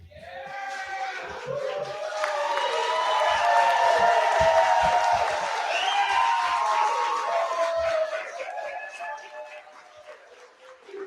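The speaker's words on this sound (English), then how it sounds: "Stand up and applaud these kids." An audience at a youth entrepreneurial program final pitch event bursts into sustained applause and cheering, building then fading over several seconds, with whoops and voices in the crowd.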